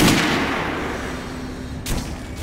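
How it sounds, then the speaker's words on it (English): Gunfire at a shooting range in the video game Metro Last Light Redux, a dense loud report fading over a couple of seconds before a second sharp shot near the end. "Head over to my range and try out those guns"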